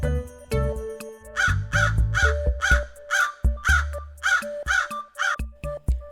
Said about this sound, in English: Crow. This is crow.